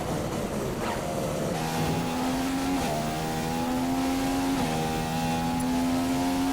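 Racing car engine from an F1 video game on a qualifying lap, a steady high whine whose pitch climbs in stepped gear shifts, dipping briefly at each change before rising again, loud and continuous with no talk.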